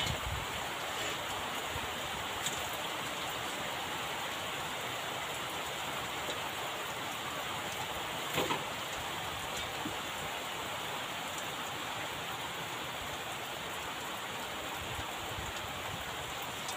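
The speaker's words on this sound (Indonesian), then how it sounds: "ini mah sekarang tidak angin lagi, cuma hujannya aja yang lebat" Heavy rain pours onto a hut in the middle of a rice field, a dense, even hiss that never lets up, with no wind gusts and no voices.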